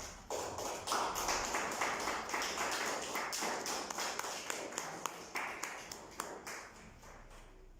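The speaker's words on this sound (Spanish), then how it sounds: "Vamos a darle un fuerte aplauso a Cristo en esta tarde" Clapping in a church service goes on as a steady run of quick claps from a congregation, fairly faint and distant, continuing throughout.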